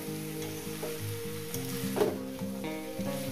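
Potatoes and pumpkin greens frying in a pan with poppy seed paste give a steady, close sizzle with a few brief stirring scrapes, with no talking.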